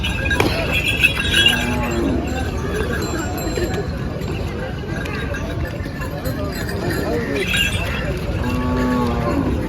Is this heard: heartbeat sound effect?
no